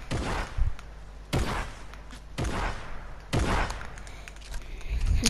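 Four loud, evenly spaced booming blasts from a heavy shotgun in a fast-paced battle-royale video game, each a sharp report followed by a brief decaying rumble.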